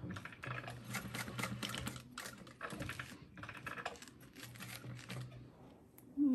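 A sewing machine stitches through quilted fabric in quiet, rapid bursts of mechanical chatter, starting and stopping several times at close range.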